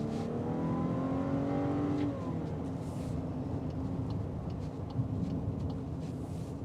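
A 2025 Volkswagen Atlas Peak Edition pulling up to speed, heard from inside the cabin as a rising engine whine that shifts around two seconds in, then settles into steady road and engine noise.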